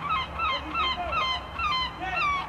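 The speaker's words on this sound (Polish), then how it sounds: "dźwięk mew jest idealny" Seagulls by the sea give repeated falling cries, several calls overlapping at moderate loudness over a low steady background hum.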